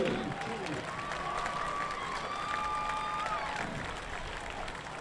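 Crowd in the stands at a high school football home opener under the lights, giving a steady broad murmur with scattered clapping and cheering and a whistle-like tone partway through.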